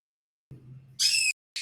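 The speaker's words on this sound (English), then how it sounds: "bird sound. It's my pet" A pet bird gives a short, clear, bright whistle, then a brief second burst, close by and loud against an otherwise quiet room, after a low murmur.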